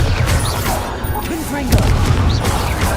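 Blasting spell explosions from Confringo and Bombarda in the Hogwarts Legacy video game, a few booming impacts and crashes over continuous game noise and music, loud and close, with a voice shouting between them.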